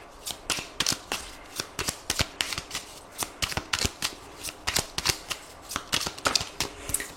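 Oracle cards being shuffled by hand in a steady run of crisp, papery riffles and slaps, close and fairly loud, with no voices.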